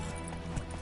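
Steady clip-clop of hoofbeats from the horse Roach in The Witcher 3, a rhythmic run of hooves over a low ambient bed, moderately quiet and close.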